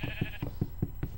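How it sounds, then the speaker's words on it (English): A gray sheep bleating in the Minecraft video game, a fast run of about six short rhythmic bleats, close and moderately loud, with no talking. "Hey, a black sheep. No, that's a gray sheep."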